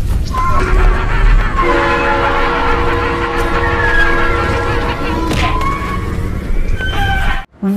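A toy train sounds a horn-like tonal whistle over rolling rail and wheel noise, loud and close, lasting several seconds before cutting off abruptly near the end.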